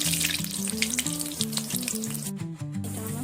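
Egg and gram flour batter snacks, made with country hen eggs, fry in hot oil with a steady, dense sizzle that runs throughout, while melodic music plays over it.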